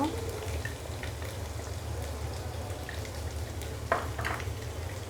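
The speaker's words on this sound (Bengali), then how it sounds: "পেঁয়াজের বেরেস্তা, গোটা গরম মশলা, লবণ দিয়ে ভালো করে কষিয়ে নেব।" Fried onions and whole garam masala with salt sizzle in a pan for egg korma, a soft, steady frying crackle with a couple of brief stirring scrapes near the end, under a low background hum.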